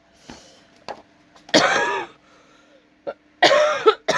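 Several coughs come in bursts, with two heavier coughing fits separated by short quiet gaps and a few small throat sounds.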